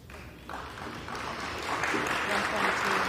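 Applause from a crowd greeting a vote rises and swells over a few seconds, growing steadily louder with a broad, noisy clatter of hands.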